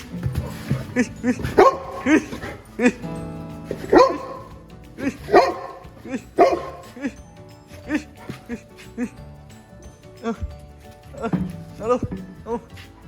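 A fierce pitbull confronts a guitar, barking repeatedly in loud, close bursts mixed with yips, while people shout and talk excitedly throughout.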